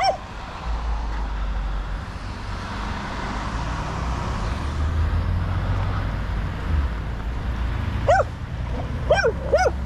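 A dog in a roadside forest setting lets out a few high, whining yelps near the end, after a long stretch of low rumbling traffic noise.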